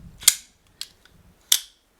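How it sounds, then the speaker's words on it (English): A Shirogorov CD F95 pocketknife closes with sharp, crisp clacks of its blade: three distinct snaps, close and fairly loud, with a fainter click between them. "this is a nice clack when you close it"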